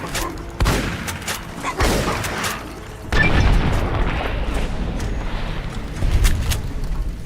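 Gunfire from the video game Fallout: New Vegas, in the Old World Blues area. Several loud booming shots and blasts come in irregular bursts, with heavy low rumble between them.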